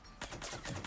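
Rapid gunfire in Mass Effect 3, a dense continuous burst of automatic shots starting abruptly after a brief quiet moment and carrying loud to the end.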